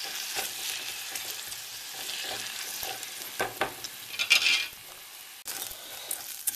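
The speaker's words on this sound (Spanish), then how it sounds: "echamos el arroz y lo vamos mareando con el ajillo." Rice stirred and fried with garlic and a bay leaf in a pan: a steady sizzle broken by scraping stirring strokes that swell briefly, close and alone, with no talk.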